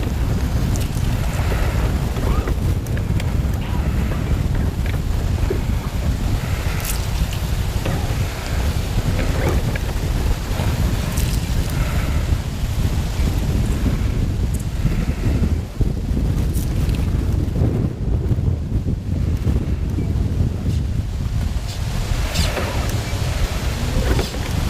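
Strong wind blowing outdoors near open water, buffeting the microphone with a continuous loud rumble and gusty roar that runs the whole length without letup.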